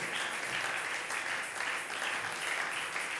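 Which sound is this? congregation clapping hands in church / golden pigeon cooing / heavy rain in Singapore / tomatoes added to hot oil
congregation clapping hands in church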